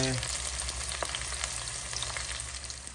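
Sweet potato chips frying in hot oil, a steady close sizzle and bubbling crackle that runs evenly throughout with no voices.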